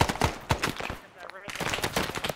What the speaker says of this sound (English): that's those machine guns